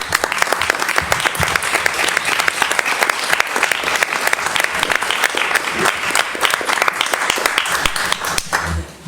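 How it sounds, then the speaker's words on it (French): Council members and attendees at a Walhain municipal council session applaud warmly, a dense steady round of clapping filling the room for several seconds before tapering off abruptly at the end. "Donc je vous propose de l'applaudir chaleureusement."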